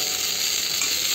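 Tomatoes sizzle and fry in a pan for chutney, a loud continuous hiss up close that stays even throughout.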